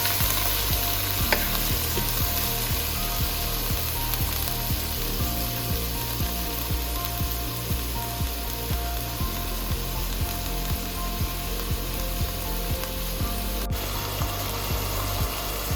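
Mutton masala fries in a pan while being stirred, a steady close sizzle with a continuous scraping, rubbing rhythm of the spoon running the whole time, with no voices.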